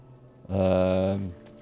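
A cat in the video game Divinity: Original Sin 2 lets out a single drawn-out, tonal meow of about one second, heard clearly over a quiet background.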